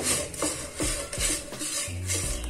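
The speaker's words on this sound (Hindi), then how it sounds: "हम इसमें नमक ऐड कर देंगे और अच्छे से मिक्स कर देंगे" Salt being stirred into a moong dal stuffing for khasta kachori, a run of close scraping and rubbing strokes of a spoon against a bowl, steady and unbroken with no voices.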